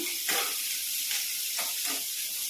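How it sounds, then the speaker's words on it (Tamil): Onions sautéing lightly in butter for paneer butter masala, a close, steady sizzling hiss broken by a few stirring swishes. "ஆனியன் லைட்டாக செப்ரேட் ஆகிற அளவுக்கு நம்ம வதக்கி விட்டுக்கலாம்"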